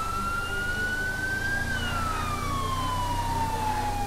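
A police car siren in GTA V wails in a smooth rising and falling tone, loud and continuous over a low engine rumble throughout.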